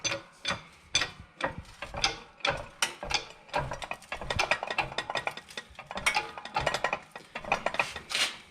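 A hydraulic jack is pumped repeatedly to straighten a bent mower front axle, giving a quick run of close metallic ratcheting clicks and knocks.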